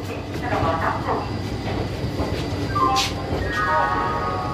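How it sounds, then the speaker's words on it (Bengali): The 12333 Vibhuti Express pulls away at night, a steady rolling rumble of wheels and carriages running continuously throughout, with a few higher tonal sounds over it and possible voices in the background. "ঘড়ির কাঁটা ঠিক 8টা ছেড়ে দিল আমাদের ট্রেন।"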